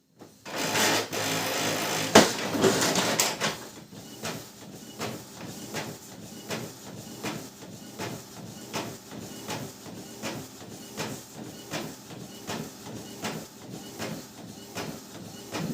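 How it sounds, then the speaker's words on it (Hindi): An Epson L360 inkjet printer runs a colour copy: a loud burst of motor whirring and paper feeding at the start, then a steady run of rhythmic mechanical clicks and print-head passes that continues throughout, with no talking. "वाइट पेपर डाल दिया और यहाँ पर कलर कॉपी कर देता हूँ। इस तरह का प्रिंट देता है।"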